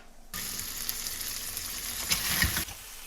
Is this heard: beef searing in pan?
yes